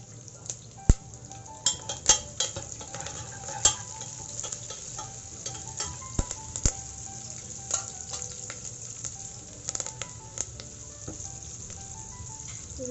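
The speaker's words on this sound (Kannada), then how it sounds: "ಇಷ್ಟು ಕರಿಬೇವಿನ ಸೊಪ್ಪು ಹಾಕ್ತೀನಿ." Curry leaves dropped into hot tempering oil crackle and sizzle loudly, with a continuous fry hiss broken by sharp pops and the scrape and clink of a spoon stirring in the pan.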